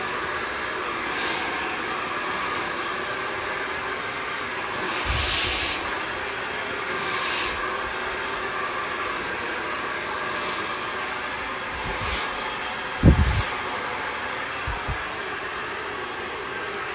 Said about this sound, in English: you're using a Parlux blow dryer